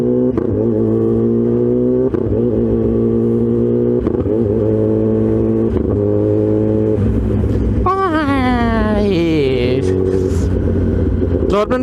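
Kawasaki ZX-10R superbike engine on a ride, a steady loud drone holding pitch, then revving up with sharply rising and falling harmonics near the end, with brief clatter.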